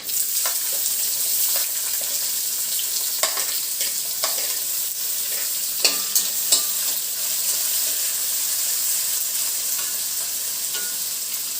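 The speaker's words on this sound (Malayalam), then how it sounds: "ഇനി നമുക്ക് സവാള ഇതിനകത്തോട്ട് ചേർക്കാം" Onions sizzle and fry in a hot pan after mustard seeds, with continuous crackling, while a utensil scrapes and stirs intermittently, close and steady.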